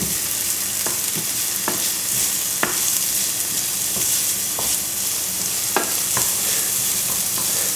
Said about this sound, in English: Give those a quick move around in the oil.